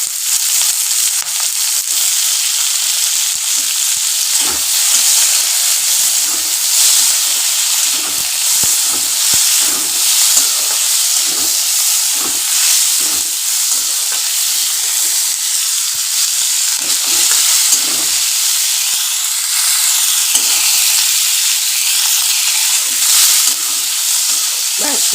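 Onions tossed and stirred in a hot pan for egg do-pyaza, with a steady close sizzle and frequent scraping stir strokes throughout, no talking.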